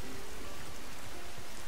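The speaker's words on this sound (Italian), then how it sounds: "Quindi adesso piove" Steady, dense rain patters evenly in the video game Stranger of Paradise, a continuous wash of falling drops without any voices.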